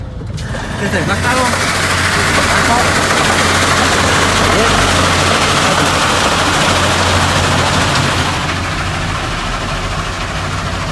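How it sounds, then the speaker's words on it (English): A heavy machine grinding wood into mulch gives a loud, constant mechanical roar. It runs without pause across the whole stretch and eases slightly near the end. "Load it onto this machine, grinds it up, and makes some filler."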